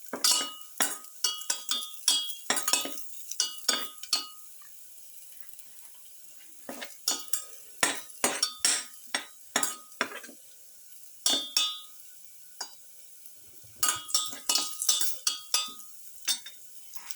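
A metal spoon stirs and scrapes a sauté mix in a pan while cooking a pepper quail rice bowl, giving irregular clinking bursts with short pauses between them and a faint sizzle underneath.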